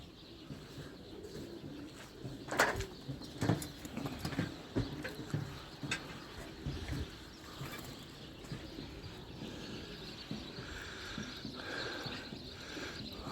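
Racing pigeons on a training flight of 22 km into a strong wind, heard as soft cooing and flutters outdoors, with scattered knocks and taps in a quiet setting.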